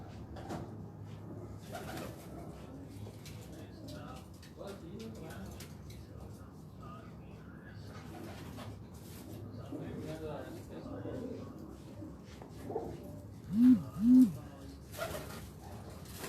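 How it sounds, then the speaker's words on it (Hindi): Pigeons in a breeding setup coo softly a few times near the end, while someone talks continuously over faint background noise. "इस वक्त हम उस्ताद मियाँ एहसनपुरी साहब के कबूतर आपको दिखा रहे हैं जी, जोड़ों वाले"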